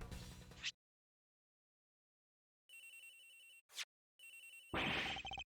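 A telephone rings in the Ace Attorney Investigations video game, shown as loud electronic ring bursts with gaps of silence between them, plus a short swoosh and a final burst of game sound effects.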